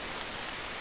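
Steady rain falls outdoors around a streamside campsite with a small rock overhang, a constant even hiss of drops without any break.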